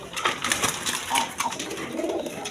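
Big-sized chuital gorra pigeons, a breeding pair, give soft, rolling coos up close, steady and continuous with no talking over them.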